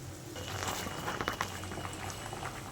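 A pot of fish curry boils with a soft, steady bubbling and occasional small pops, fairly quiet and close, with no voices.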